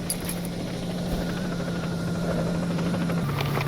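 Helicopters fly overhead in the video game Stalker Anthology, a continuous loud rotor and engine drone with a steady low hum that shifts pitch slightly near the end, heard alone without talk.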